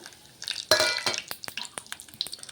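Whole garam masala spices including cloves, cinnamon, mace, star anise and bay leaf dropped into hot oil in a pan for chicken masala curry, with a quick burst of sizzling followed by crackles and pops up close.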